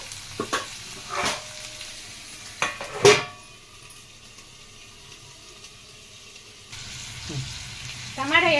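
Mutton frying in a covered pot, a low steady sizzle behind several sharp metallic clanks of a lid and spoon, with a brief voice near the end.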